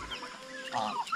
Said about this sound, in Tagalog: yung mga gansa kumain agad ng mga damo